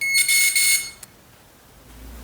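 A loud, shrill electronic beeping sounds in a few quick bursts, then cuts off, leaving a faint click and quiet hum.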